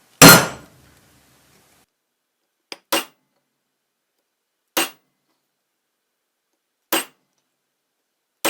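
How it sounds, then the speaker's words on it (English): Four sharp metallic hammer blows on a metal punch against a DIY box mod enclosure, evenly spaced about two seconds apart, each preceded by a faint light tap, after an initial louder ringing strike. "Now I'll do it again with the actual punch."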